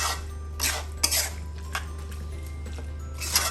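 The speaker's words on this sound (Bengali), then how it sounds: "আর এভাবে করে নাড়াচাড়া দিচ্ছি দেখুন" Tamarind with seeds and olive pickle stirred in a pan, giving a few scattered scrapes and soft clinks of a utensil against metal over a steady low hum, mostly quiet between strokes.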